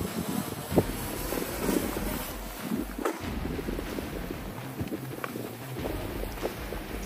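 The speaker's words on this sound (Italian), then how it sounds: "Si è alzato il vento" Steady wind buffets the microphone outdoors, with rushing gusts and occasional thumps, no voices, before a small DJI drone takeoff.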